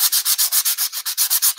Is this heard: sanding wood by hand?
yes